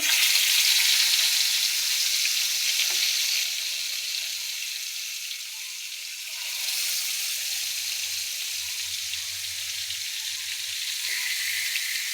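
Fish rubbed with salt and turmeric sizzling in a hot wok, a steady bright hiss of frying oil that dips briefly midway and then resumes, close and continuous with no voices.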